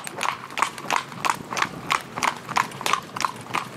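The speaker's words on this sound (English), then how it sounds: "you can see he's going along here sweet now" A driving horse, being retrained to drive in a soft bit, trots along with crisp, evenly spaced clip-clop hoofbeats. About three beats fall each second, close and steady throughout.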